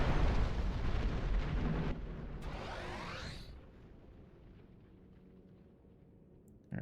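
A satellite weapons platform blowing up in the Star Trek Online game: a loud, roaring explosion with a crackling, rising debris whoosh that decays over several seconds into a low rumble, with a brief burst at the very end.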